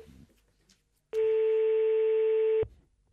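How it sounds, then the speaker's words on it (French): Telephone line tone while placing a call, a single steady electronic tone lasting about a second and a half after a faint click, clear and alone. "On va l'appeler, la femme de Michel"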